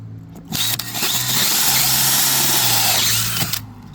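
A battery-powered drill with a nearly dead battery bores a 4 1/4 inch hole for a 4-inch duct, one steady loud whirring run of about three seconds that cuts out abruptly, with brief rattles before and after.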